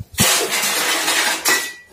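Scrap aluminium cans clatter and clink as they are sorted, with a sustained loud metallic rattle broken by a short pause and another burst, close up, no talk.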